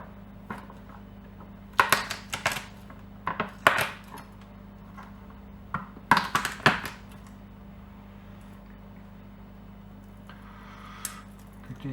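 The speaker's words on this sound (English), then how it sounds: "Get a couple of garlic cloves here. Get these crushed up." Garlic cloves being crushed on a kitchen board, several sharp knocks and crunchy presses in short clusters, close by and fairly loud over a quiet hum, with no talk.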